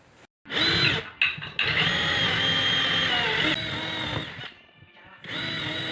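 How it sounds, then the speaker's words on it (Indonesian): A power drill whines steadily at high pitch boring through wooden formwork, cutting out briefly and restarting a few times, close by and loud. "kita bor juga seperti ini ya"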